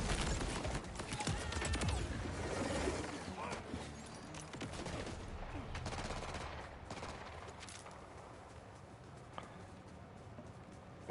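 Shotguns fire in the shooter game Borderlands as a rapid string of blasts over a busy, noisy game mix, dense at first and thinning out toward the end, moderately loud.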